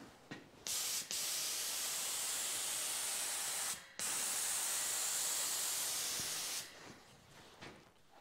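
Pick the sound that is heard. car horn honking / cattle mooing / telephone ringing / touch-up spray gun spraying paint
touch-up spray gun spraying paint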